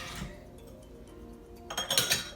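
A drinking glass is set back into a cupboard after being wiped: faint soft clinks and a brief rattle near the end, close by in a quiet home.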